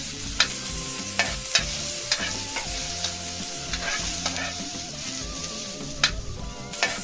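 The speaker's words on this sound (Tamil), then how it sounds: "பச்சை வாசனை போகிற வரைக்கும் நல்லா வதக்கி விட்டுருங்க." Red bean masala sautéing in a pan, with a steady sizzle under repeated scraping strokes of a spatula, close and continuous, with no voices.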